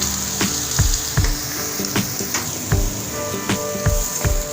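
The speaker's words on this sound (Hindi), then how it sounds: "सारा हम अंडों का मिक्सचर इसमें डाल देंगे। आँच को हम बिल्कुल लो रखेंगे।" Egg mixture poured into a pan of melted ghee over very low flame for egg halwa, sizzling and bubbling steadily with a high frying hiss and several sharp clinks of a utensil against the pan, close and fairly loud.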